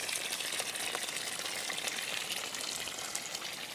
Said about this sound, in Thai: นี่น้ำวันนี้จะปล่อยให้น้ำไหลทั้งวันนะครับ